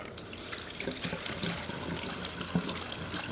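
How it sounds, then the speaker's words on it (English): About a gallon of water is poured into the fuel filler neck of a Dodge truck with a Hemi swap, making a steady, splashing, faucet-like flow that runs continuously with no talking. "Did we do the filler neck correctly?"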